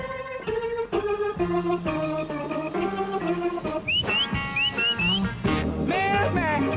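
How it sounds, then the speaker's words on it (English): An audience at a 1965 live pop concert whistles along to a band playing a song, with short rising whistles over loud, full music in the middle of the passage. "on this one, please whistle in the appropriate places"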